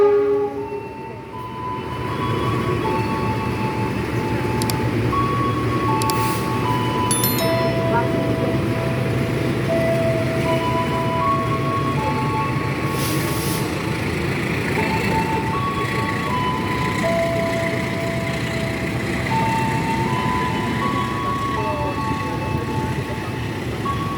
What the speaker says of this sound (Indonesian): Kereta api barang peti kemas